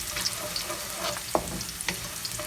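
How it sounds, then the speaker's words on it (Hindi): Whole spices for a tempering of masoor dal sizzle in a hot pan with the flame off, a steady crackling fry with small pops and the scrape of a spoon stirring through it, close up. "इसको 2-3 सेकंड तक आप इसको इस तरह से हिलाएं।"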